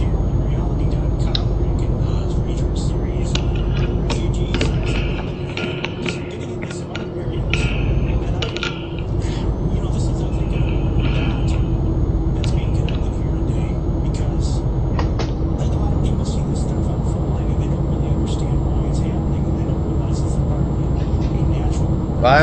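A modded Iveco Stralis Hi-way truck engine in Euro Truck Simulator 2 drones steadily throughout at a constant loud level, with intermittent clicks and ticks layered over the hum.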